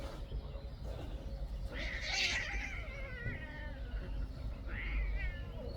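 Pet cat meowing faintly a few times, short rising and falling cries over steady low background noise, with no clear talk.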